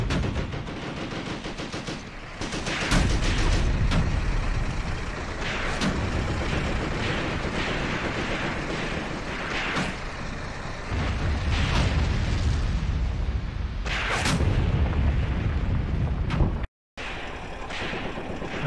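Battle din in the Graviteam Tactics wargame: dense machine-gun chatter, rifle fire and heavy artillery booms and explosions roll continuously, with louder blasts rising out of the barrage.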